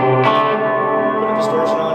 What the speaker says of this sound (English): you turn the distortion on, you play it, and then you get this really bad decay sound.